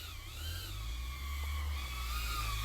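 FPV drone fitted with a DDI Pro ducted frame hovering close by, a steady whining buzz with shifting tonal layers over a continuous low rumble, loud throughout with no talk.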